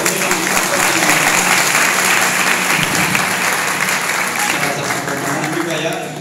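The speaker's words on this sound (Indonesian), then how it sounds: "Ya tepuk tangan loh." Sustained audience applause at a testimony event at a police training centre (Pusdik Binmas), dense and steady from start to finish, with voices mixed in beneath the clapping.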